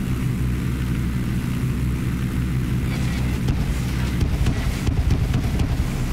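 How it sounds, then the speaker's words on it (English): Military drone in the video game Ghost Recon Breakpoint, a steady low propeller-like hum droning continuously overhead, with a rising burst of crackling activity toward the end. "Drone!"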